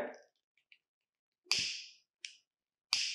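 A spirit lamp is lit with a few sharp, scratchy strikes, each fading quickly, separated by short pauses in an otherwise quiet room.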